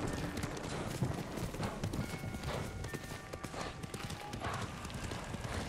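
Horse hooves clip-clop in the video game Ghost of Tsushima, a steady rhythmic trot of close, fairly quiet footfalls over ambient game sound, with faint talk in the mix.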